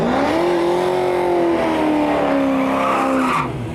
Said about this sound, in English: Left lane, the Corvette's going through.